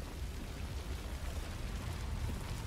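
Steady rain falling in the fantasy action game No Rest for the Wicked, a dense, continuous low rumbling wash of downpour with no breaks, heard alone at a moderate level.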